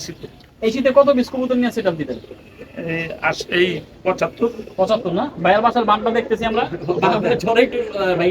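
Pigeons coo softly in the background while a person talks steadily over them throughout.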